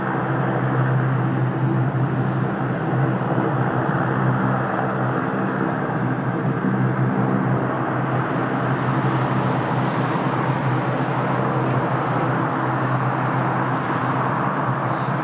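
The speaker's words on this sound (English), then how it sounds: "Embraer on short final." An Embraer airliner on short final approach into Lisbon Airport, a steady, loud broadband roar with low engine hum that holds evenly throughout, with no talk over it.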